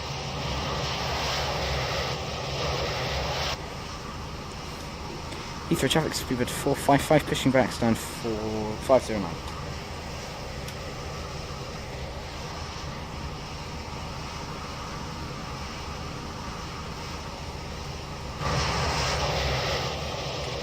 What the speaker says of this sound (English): Someone's firing up their engines.